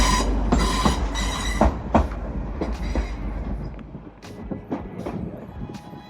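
A Class 185 train, unit 137, moves through Manchester Piccadilly station bound for Saltburn, with loud rumbling, rhythmic wheel clatter over rail joints and occasional squeals, close by and heard on its own.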